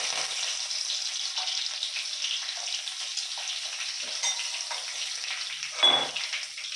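Crushed garlic cloves and curry leaves dropped into hot oil, giving a bright, steady frying hiss close by with a brief louder crackling burst near the end.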